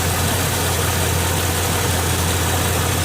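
A truck fitted with a swapped-in 350 engine idles steadily nearby, a loud, even low rumble with constant vibration and no other sounds.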